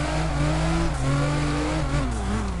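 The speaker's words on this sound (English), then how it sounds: "It's funny, the turbo kind of sounds like a coin purse." A drift car in CarX Drift Racing Online holds a loud, steady engine note with throttle modulation and rising and falling revs, the turbo adding a faint jingly flutter over the drone.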